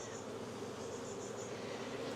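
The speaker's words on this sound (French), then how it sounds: "il y a des abeilles qui vont sortir" A steady, dense drone of honeybees swarms around an open hive box during a honey harvest, a close, continuous buzz with no voices over it.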